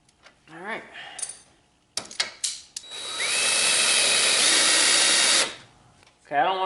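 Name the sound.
power drill drilling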